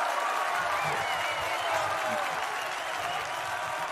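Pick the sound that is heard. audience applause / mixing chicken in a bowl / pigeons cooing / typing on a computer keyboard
audience applause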